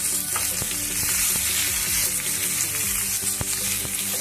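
Garlic, dried chili and bay leaf fry in hot oil with a loud, continuous crackling sizzle, close up, with scattered sharp pops and light stirring clicks throughout.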